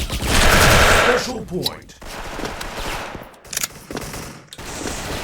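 FA-MAS rifle fire in the shooter game SF: a loud, dense burst of rapid shots fills the first second and a half, then trails into quieter scattered battle noise.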